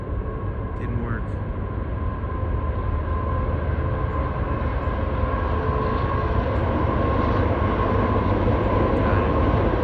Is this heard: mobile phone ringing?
no